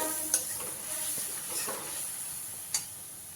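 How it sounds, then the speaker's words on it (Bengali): Spice masala frying in a pan for Bengali doi potol with a soft, steady sizzle while a spoon stirs it in scraping strokes. Two sharper clinks stand out, one early and one late, all fairly quiet. "মশলাটা দিয়ে একটু ভাজতে দেব, মশলাটা জাস্ট একটু কষাবে"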